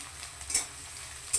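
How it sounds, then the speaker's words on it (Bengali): Onions frying in a pan for a thin mutton curry give a steady, close sizzle with two brief louder scraping bursts as they are stirred. "তো সেই কারণেই আমি পেঁয়াজটাকে ভাজতে দিয়েছি"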